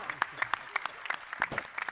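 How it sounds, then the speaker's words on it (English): A short burst of sparse clapping from the audience at a 2014 candidates forum as the panel is thanked, moderate and close, with individual claps clearly separated. "And please give our panel another round of applause."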